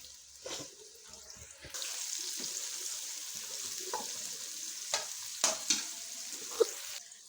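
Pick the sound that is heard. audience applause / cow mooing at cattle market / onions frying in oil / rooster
onions frying in oil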